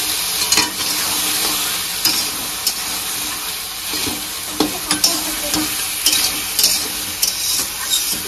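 Ridge gourd pieces hit a pan of rui fish curry with poppy seed and onion, sizzling steadily and loudly while a spoon scrapes and stirs with several sharp clacks against the pot.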